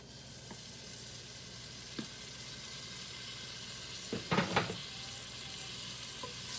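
About two tablespoons of butter melts in a pan for a roux, giving a faint, steady sizzle with a few soft clinks of a utensil partway through.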